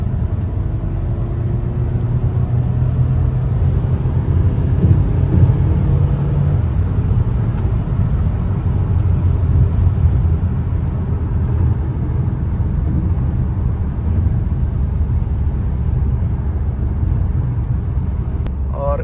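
Cabin view of a Volkswagen Jetta 2.0 Highline automatic accelerating, its engine a steady, full low drone with road rumble that holds at an even loudness throughout, no talk over it.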